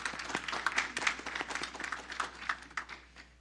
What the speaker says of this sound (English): Let's give them a round of applause for this awesome report.